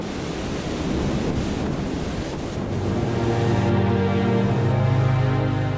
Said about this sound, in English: massive gusts are typical for this time of the year